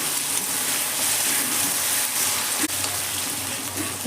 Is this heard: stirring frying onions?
yes